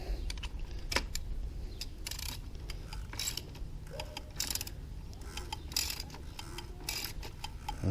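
Socket wrench ratcheting on the oil drain plug of a 2016 Volkswagen Golf R MK7 during an oil change, a run of close, quiet clicks and rattles in an uneven rhythm, with no speech.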